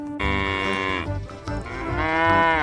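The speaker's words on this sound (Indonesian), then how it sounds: "Ada induk kerbau." Toy truck playing a recorded mooing of a black mother water buffalo, two long loud bellowing moos with a short break between, harmonic and close, no talk over it.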